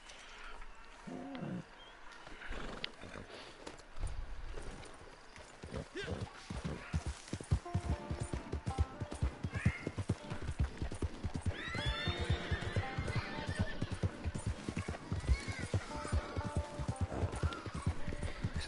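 A horse in Red Dead Redemption 2 online, whinnying and snorting over a long run of steady clip-clop hoofbeats, fairly close, with a voice speaking briefly.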